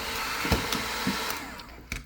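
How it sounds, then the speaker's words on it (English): A hair dryer blows into a frozen-up Whirlpool ice maker, giving a steady airy whoosh with a few soft knocks and clicks over it as it runs. "pull the hair dryer out"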